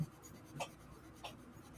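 Colored pencil strokes on paper, two quiet scratchy sweeps spaced about half a second apart, faint and close in a hushed room.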